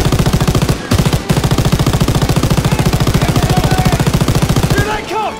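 Machine gun fire during the Normandy D-Day landing in Call of Duty WW2 hammers in long, fast, loud bursts with two brief pauses, ending as shouts rise in the battle.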